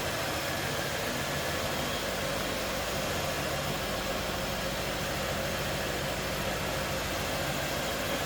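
A 1994 Cadillac Fleetwood Brougham's 5.7-liter V8 with a K&N cold air intake runs at a steady idle, producing a dense, even rumble with no talk over it.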